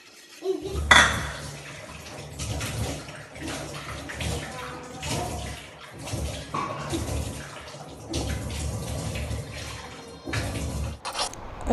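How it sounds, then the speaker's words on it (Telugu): Dishes, pots and pans are being washed at home under running water, with clattering and clinking of metal vessels and cutlery over a continuous splashing stream, fairly close and moderately loud. "నేను ఇక్కడ గిన్నెలన్నీ వాష్ చేసేసిన."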